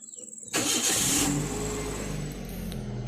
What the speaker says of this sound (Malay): kita start engine